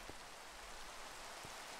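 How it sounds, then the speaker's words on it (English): Rain falls steadily, a faint even hiss of drops on surfaces with a couple of soft low thumps, no voices present. "Okay, can it stop raining now?"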